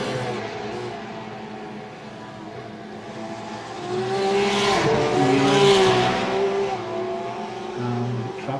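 Porsche race cars lapping the Bathurst circuit during a racing event, engines droning and rising in pitch as two cars chase each other, with a louder pass through the middle and a steady mechanical roar throughout.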